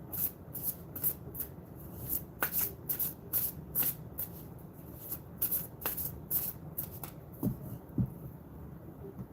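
A deck of reading cards being shuffled, giving a steady run of quick riffling, flicking bursts, close and fairly quiet, with no talk over it.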